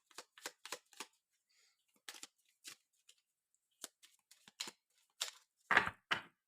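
Oracle cards being shuffled for a card reading: a run of short, crisp riffling bursts in quick irregular succession, close and fairly quiet, with a louder flurry near the end and no talking.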